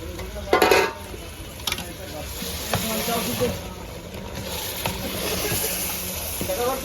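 Curry with bombil sizzling in hot oil as water is stirred in, a continuous bright frying hiss with scraping stir sounds and a few louder splashes near the start, while someone talks over it.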